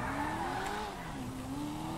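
A car in a video game drives with a steady engine drone while its tires squeal and skid, the pitch sliding up and down through a continuous, moderately quiet stretch.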